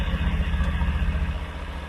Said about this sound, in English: This is what it sounds like on idle,